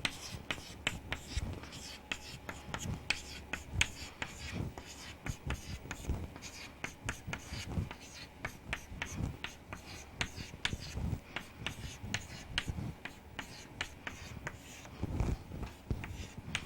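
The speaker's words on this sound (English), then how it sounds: "I am going to write this combinations." Chalk or marker writing truth table combinations on a classroom board, a long run of quick close taps and scratchy strokes in an irregular rhythm, with faint voice in the background.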